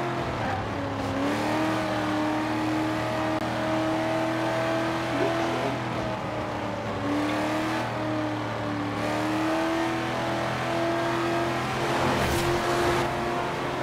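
Muscle car engines rumble and rev steadily in Forza Horizon 4 during an online cruise, a continuous loud droning engine note with rising and falling pitch throughout.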